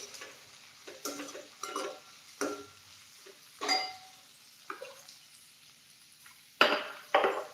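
Peas and onion being sautéed in a pan for spicy chivda: intermittent scrapes and clinks of a spatula against the pan, arriving in irregular strokes at moderate loudness, with no talking.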